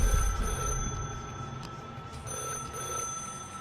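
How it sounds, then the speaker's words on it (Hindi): A landline telephone rings continuously with a sustained electronic bell tone over low background rumble, steady and fairly loud. "उस फोन की घंटी बजती ही जा रही थी।"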